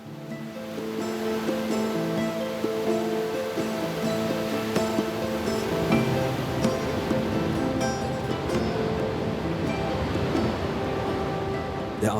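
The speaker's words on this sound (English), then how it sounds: "There are 275 horseshoe-shaped waterfalls, stretching out over nearly 3 kilometers in length." Roaring Iguazu waterfalls, a chain of 275 horseshoe-shaped falls stretching nearly 3 km through rainforest, give a steady, dense wash of rushing water that stays loud and unbroken throughout.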